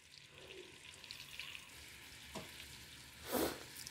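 Onion and garlic added to a pan with chicken give off a faint, steady sizzle, broken by a soft scrape of stirring and a brief louder splash near the end.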